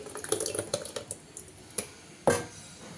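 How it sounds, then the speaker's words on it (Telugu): Short bursts of water splashing and trickling into a tightly lidded container, uneven and close, ending with a louder gush. "కొంచెం వాటర్ వేసుకోవాలి"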